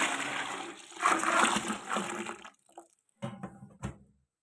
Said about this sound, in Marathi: आता अजून पाणी ओतून घ्यायचं